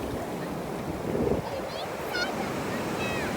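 Atlantic Ocean surf at a beach, a steady wash of breaking waves with wind buffeting the microphone, while faint high voices and calls rise briefly over the water.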